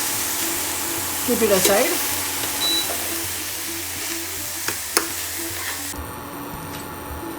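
Food sizzles and is stirred in a pan while sautéing for a methi matar malai with paneer dish, a steady frying hiss with brief scraping stirs and a few clinks; a voice speaks briefly.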